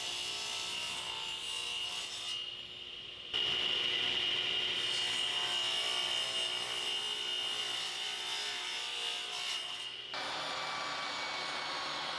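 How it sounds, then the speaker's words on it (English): A radial arm saw cuts wooden boards to length: a loud, steady high-pitched whine that starts abruptly, holds for several seconds, then drops away, with quieter motor hum before and after. "Then using the radial arm saw, I cut them to their exact length."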